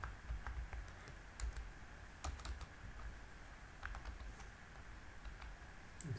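Quick irregular clatter of keys on a computer keyboard as text is typed, close and quiet, with scattered sharp taps and short pauses, no voices.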